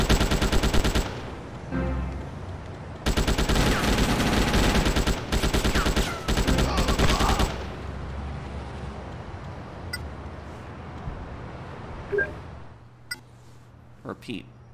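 AK assault rifle fire in GTA Chinatown Wars, loud sustained bursts of rapid automatic shots in several long strings with brief gaps, trailing off into quieter scattered sounds and a few faint shots.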